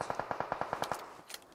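A rapid burst of about ten automatic gunshots fires in even rhythm in the mobile battle royale game PUBG Mobile, followed by a couple of sharper separate shots.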